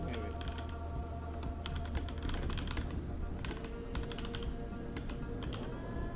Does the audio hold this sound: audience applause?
no